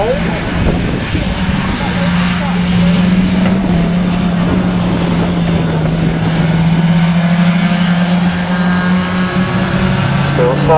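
Class 1 autograss race cars battle for the lead on a dirt track at Leewood, their engines forming a continuous loud drone with a shifting pitch, and talk running over it.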